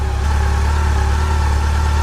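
A Yamaha FJR 1300 motorcycle engine idles steadily while warming up, with a close, continuous low throbbing hum and no talking.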